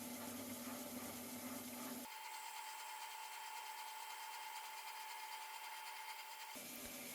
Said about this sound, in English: Starting the rough cuts to bring it down to size.